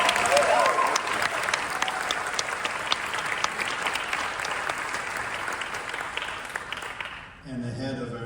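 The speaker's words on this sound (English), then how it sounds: "Please give a huge round of applause for Ari Sepulveda." A large audience applauds at a university jazz band spring concert, honoring Ari Sepulveda. Thick, roaring clapping fills the space for several seconds, then drops away as a voice begins speaking.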